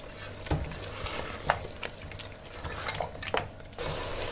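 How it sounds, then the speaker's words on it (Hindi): Aloo gosht with yogurt and fenugreek being stirred in a pot over low heat, with soft scraping and spoon clinks against the metal over a faint background sizzle. "अब इसको अच्छे से मिक्स करती हूँ।"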